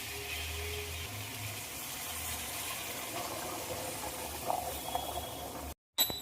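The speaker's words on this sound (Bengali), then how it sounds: "এবার দিয়ে দেবো গরম জল।" Hot water poured into a pan of mustard-fried hilsa fish curry with chickpeas and taro gives a steady, close gushing and bubbling for several seconds, then cuts off abruptly near the end.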